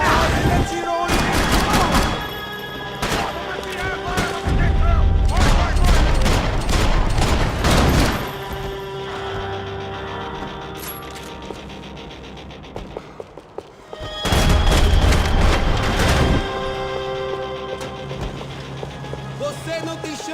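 Video game gunfire from Max Payne 3: loud bursts of rapid shots in several clusters, mixed with booming impacts, with shouted Portuguese voices in between.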